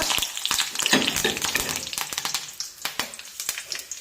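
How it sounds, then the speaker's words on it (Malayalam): Mustard seeds and curry leaves spit and crackle in hot oil for a tempering, a close, uneven run of sharp pops over a softer sizzle, with no voices. "എണ്ണ ചൂടായിട്ടുണ്ട് അതിലേക്ക് കടുക് ഇട്ട് കൊടുക്കാം"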